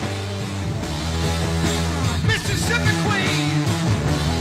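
Rock music from a 1970 song with a thick, snarling guitar tone over bass and drums, dense and steady throughout.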